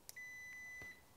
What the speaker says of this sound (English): If it's a short, it will beep.